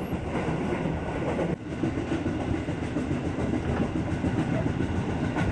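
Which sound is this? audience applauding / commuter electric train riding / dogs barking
commuter electric train riding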